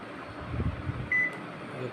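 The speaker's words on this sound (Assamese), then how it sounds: "অভেনত সোমোৱাই দিলোঁ" An oven cooking a wrapped taro dish gives a low, steady hum close by, with a faint thump and a short high tone partway through.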